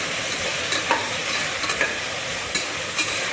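Ginger garlic paste being stirred in a hot frying pan, with a steady sizzle and a few sharp scraping clicks from the spoon against the pan, close and continuous with no talking.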